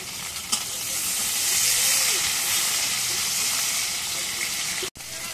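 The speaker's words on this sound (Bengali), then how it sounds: "এখন শুটকিগুলো তেলের মধ্যে ভেজে নিই।" Dried fish fries in hot oil with a loud, steady sizzle and hiss that fills the clip, with a brief stirring clatter near the end.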